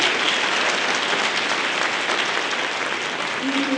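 Applause from a school choir concert audience at a fall concert, a thick, even roar of many clapping hands, loud and sustained with no speech over it.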